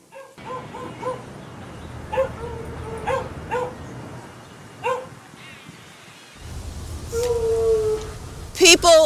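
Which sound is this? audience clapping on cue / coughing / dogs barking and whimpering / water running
dogs barking and whimpering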